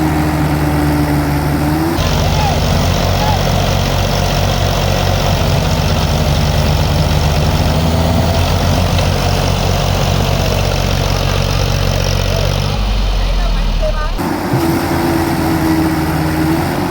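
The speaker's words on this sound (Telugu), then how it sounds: "ఈ ట్రాక్టర్ కట్టి ఇప్పుడైతే లాగాలి." A tractor engine strains under load while pulling a crane tractor stuck fast in the ground, a steady loud diesel drone with rising and falling effort, continuous and close, with no voices.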